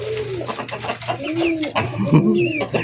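Pigeons coo in soft, rolling calls, several birds overlapping close by, with a few clucking chickens mixed into the busy background.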